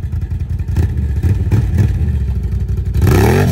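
A Can-Am Outlander 1000 ATV revs hard in low gear while lifting into a wheelie, its engine note loud and close, rising sharply near the end with a climbing whine as the front wheels come up.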